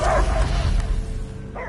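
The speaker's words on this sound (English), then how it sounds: "I hear only barking." In the video game Marvel's Guardians of the Galaxy, a dog gives two short, close barks, one at the start and one near the end, with a low rumbling background between them.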